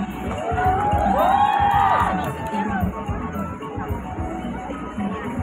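An audience at an Indonesian Batak opera competition cheers and whoops for a contestant, a loud crowd swell with shrill shouts that peaks early and then settles into a lower murmur of clapping and chatter.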